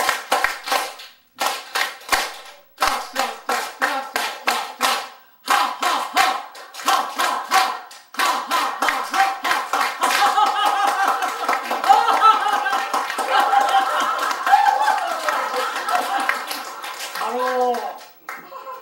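A church congregation claps in unison in the patterned 3-3-7 rhythm, repeated bursts of sharp group claps separated by brief pauses, then gives way to mixed voices and talking near the end.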